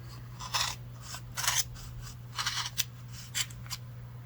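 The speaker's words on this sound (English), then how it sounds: "So now that I have my 16 strings here, I'm just going to give that a cut." Scissors snipping through a bundle of sixteen scrap yarn strands during a crochet project: several crisp, close cuts in an irregular sequence over a steady low hum, with no talking.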